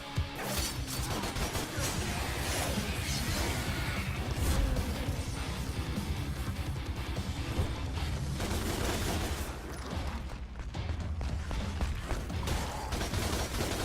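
Gunfire and crashing impacts in the DmC Devil May Cry game blend into a dense, continuous barrage of shots, smashes and clanks, loud and busy throughout with no clear pauses.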